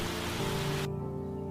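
Steady heavy rain hissing on a surface in a cartoon story, loud and continuous, then cutting abruptly to a quieter patter with a low hum underneath.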